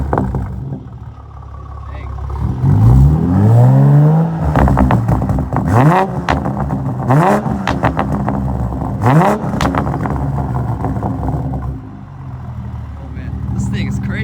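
A tuned 2020 Toyota GR Supra with turbo, intake and turbo-back exhaust accelerates hard through several gears, each rising engine sweep broken by quick shifts and crackling pops, loud and close inside the cabin.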